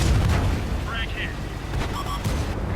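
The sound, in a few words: tank cannon firing in a video game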